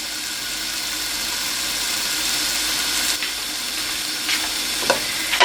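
Prosciutto (Parma ham) frying in a pan, a steady close crackling sizzle throughout with a few sharper pops and clicks toward the end.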